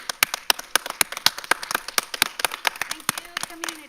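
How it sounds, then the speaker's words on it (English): Scattered applause from a modest group at a school board work session, individual claps ringing out crisply and unevenly rather than blending into a roar, close and fairly loud for about four seconds. "our community deserves a round of standing applause for their support of our mission"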